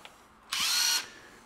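A Makita drill running on a Milwaukee battery whirs in one short, loud burst of about half a second, then stops, with quiet room sound before and after.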